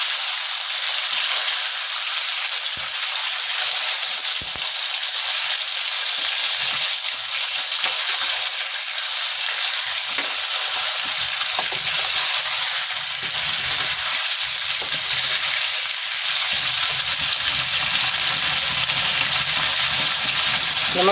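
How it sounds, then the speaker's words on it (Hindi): Chicken badami fries in a pan with a constant, loud, dense sizzle that holds steady for the full stretch, with no voices over it. "इसको भून लेके 1 से 2 मिनट तक।"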